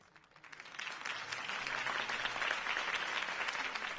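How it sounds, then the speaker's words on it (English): Crowd applause in the Batman: The Telltale Series video game, following Harvey Dent's campaign speech, swells from a quiet start into steady, dense clapping that carries on for several seconds. "could have heard that applause"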